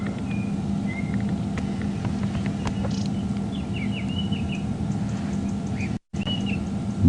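A drongo in a game reserve chirps and whistles in mimicry of other birds, giving short scattered phrases at moderate distance over a steady rumble of vehicle engine noise.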